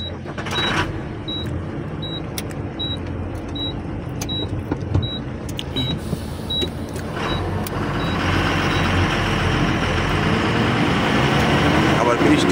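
An overloaded truck carrying maize pulls forward on a rough, rain-soaked road, its engine a steady low rumble that swells toward the end, with a repeating electronic beep and creaks throughout.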